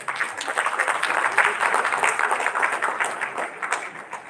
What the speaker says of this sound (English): Please give a huge round of applause to her.